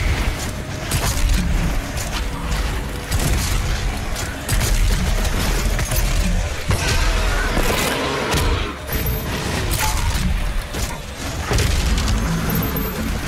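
Explosions and heavy gunfire in the video game Doom Eternal, a dense, continuous barrage of booms and cracks running loud throughout with no quiet gaps.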